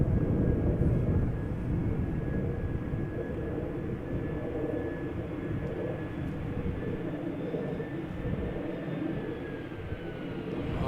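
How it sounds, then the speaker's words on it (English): An EasyJet Airbus A319 arrives at Amsterdam Schiphol from Venice, a steady broad jet roar with a thin whining tone, distant and fairly faint, holding throughout. "Got an EasyJet A319 arriving from Venice."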